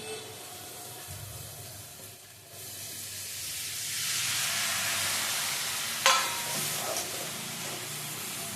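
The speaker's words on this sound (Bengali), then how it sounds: "তেল দিয়ে আলুটা ভাজতে বসিয়ে দিয়েছি" Potatoes with carrot, pointed gourd, eggplant, green banana and stalks fry in a little oil in a pan, giving a steady soft sizzle that swells partway through, with a brief clink near the end.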